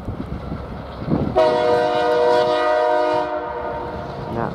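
CN train 568 blasts a very loud locomotive horn nearby, a sustained chord held for about two seconds and then fading, over the rumble of the passing train.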